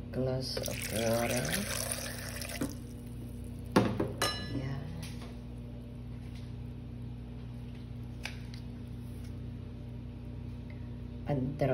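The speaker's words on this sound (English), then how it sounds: "Glass of water." A glass of water is poured into a blender for a kiwi, lemon and green apple smoothie, a brief splashing pour near the start followed by faint trickles and small knocks over a steady low hum.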